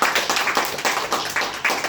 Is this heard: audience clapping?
yes